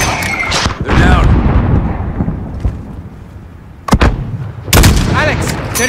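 Mortar fire in the video game Call of Duty Modern Warfare: heavy booming blasts with long rumbling tails, a cluster of loud impacts near the start and more sudden explosions near the end, with voices mixed in.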